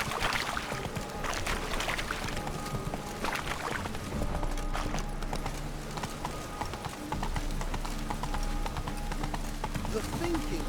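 Roach the horse galloping in The Witcher 3, a steady rhythmic clip-clop of hooves running alongside game ambience, with a voice talking over it.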